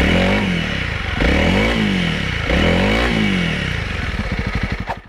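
An offroad motorcycle roars loudly and close as the clutch is popped, its engine revving hard in surges before settling into a chugging, uneven idle at the end.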